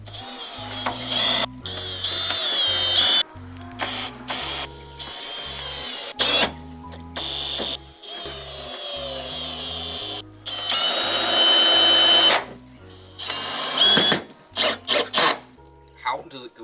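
A power drill drives screws while a mobile car detailing setup is being built. It runs in repeated whirring bursts of a second or two, stopping and starting, with people talking between and over the runs.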